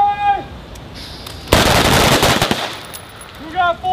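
Rapid gunfire bursts out during a shooting training drill, a dense string of sharp shots over about a second, with shouted voices before and after.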